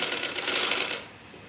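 A sewing machine stitching through folded cloth runs in a fast, dense mechanical whir up close for about a second, then stops and leaves a faint hum.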